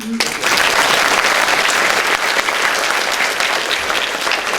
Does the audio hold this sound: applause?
yes